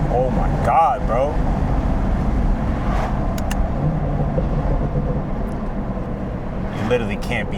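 A BMW B58 engine hums and drones steadily, heard from inside the cabin while driving, with people talking over it throughout.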